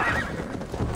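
A horse in the video game Assassin's Creed Valhalla lets out a loud, close whinny that fills the short moment, with a faint clip-clop of hooves beneath it.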